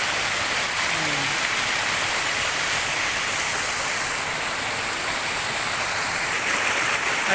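A waterfall roars as a steady, dense rush of water, loud and close, filling the whole stretch without a break, with a faint voice briefly audible beneath it near the start.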